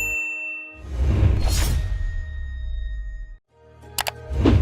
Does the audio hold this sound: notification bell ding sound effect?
yes